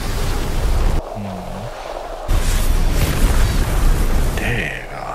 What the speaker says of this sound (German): Wie zum Beispiel bei der voll aufgeladenen Schubmagie auf Level 3.